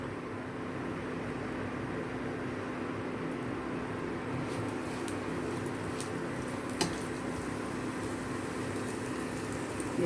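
Paratha fries in oil on a hot pan with a steady, even sizzle, moderately loud and unbroken throughout, with a faint low hum beneath.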